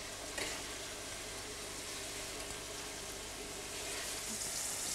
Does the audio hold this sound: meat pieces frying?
yes